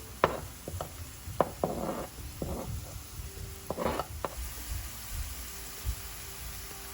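Green onions hitting a hot frying pan for Jamaican ackee and saltfish, a steady sizzle with scattered stirring knocks and scrapes of a utensil, close and moderately loud, no talking.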